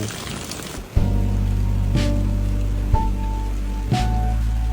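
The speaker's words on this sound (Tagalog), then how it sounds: "Grabe, ang lakas ng ulan." Heavy rain pours steadily as a dense, continuous hiss, briefly alone at first and then sitting under sustained tonal music for the rest of the stretch.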